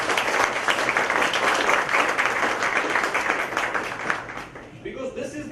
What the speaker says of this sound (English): I would request a big round of applause.